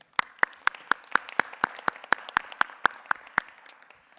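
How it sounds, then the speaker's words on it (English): A small group claps at a board of education meeting, a sparse run of distinct, sharp hand claps in a steady rhythm that carries on for a few seconds. "I want to give them a round of applause"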